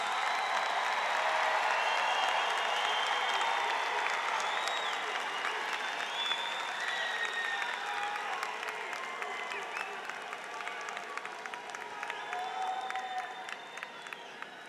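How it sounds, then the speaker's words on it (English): A commencement ceremony audience gives sustained applause for family and friends, steady and dense for the whole stretch, with scattered cheers and voices mixed into the clapping. "And now turn and applaud your family members and your friends in the audience."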